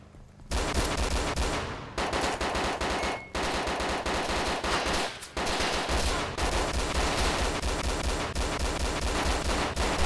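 Rapid automatic gunfire in the survival game DayZ Breaking Point during an attack on a Humvee: long, dense bursts that are loud and close, broken by a few short pauses.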